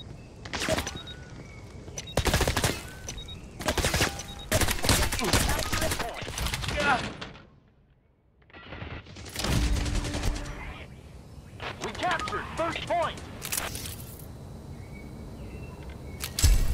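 Covering gunfire in the video game Hired Ops: repeated loud bursts of rapid automatic shots come in clusters, break off briefly into near silence, then resume with more sustained firing.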